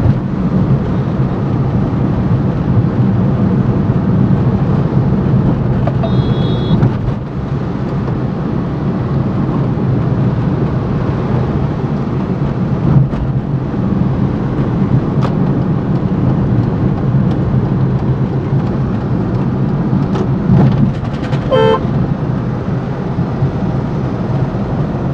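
Steady engine drone and road rumble from a Tata Nano driving in city traffic on the daily home-to-office commute, continuous and fairly loud, with brief faint beeps or horns in the background.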